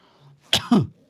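Two short, forceful coughs from one person, close and fairly loud, with a quiet moment before them and no talking.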